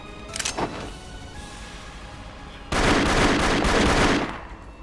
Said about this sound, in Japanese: ローリーの号令により黒服たちが一斉に銃弾を浴びせる。